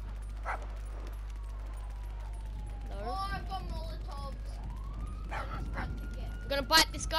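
A pug's barks and whimpers in GTA V: short yips and whining cries spread through the clip, heard under talk and game sounds, with a louder burst near the end.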